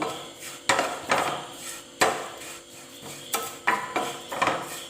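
A spoon or spatula stirring turmeric and chili powder in a hot pan, sharp metallic clanks and scrapes arriving in irregular bursts, close and fairly loud with no talking.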